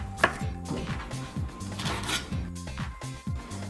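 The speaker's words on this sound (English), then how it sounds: "Just cut them into chunks." A knife chops ridge gourd into chunks on a board, a brisk run of close, even thuds under soft background music.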